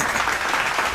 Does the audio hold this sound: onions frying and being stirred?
no